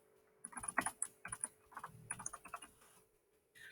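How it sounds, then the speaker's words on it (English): Typing on a computer keyboard as text is entered into a form: a quick close run of clicky keystrokes in bursts, then a short pause and a last few taps. "Now I'm going to start typing into here limits and conditions."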